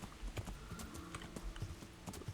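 Horse hooves clip-clop in the medieval world of Kingdom Come: Deliverance, an uneven run of close, fairly quiet hollow knocks at a walking pace with no talk.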